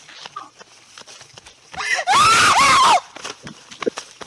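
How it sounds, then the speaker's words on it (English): A woman screams in a movie, one loud sustained shriek of about a second with a wavering pitch, preceded and followed by quieter background sound and brief talk. "That's a good scream right there."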